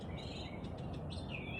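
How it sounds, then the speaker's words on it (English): Birds chirp and call outdoors, faint and somewhat distant, their short tweets scattered over a steady background hiss with no one speaking. "The birds are talking. They've been talking."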